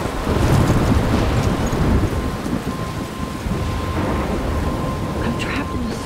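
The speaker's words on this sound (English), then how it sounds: "I'm trapped in a storm?" A thunderstorm in the video game Life is Strange: heavy rain hisses and rumbling thunder rolls continuously, with a loud, dense wash of storm noise and faint brief crackles.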